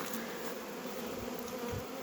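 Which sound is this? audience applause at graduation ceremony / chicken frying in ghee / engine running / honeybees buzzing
honeybees buzzing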